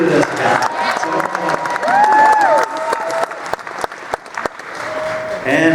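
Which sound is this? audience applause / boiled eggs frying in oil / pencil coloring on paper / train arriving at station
audience applause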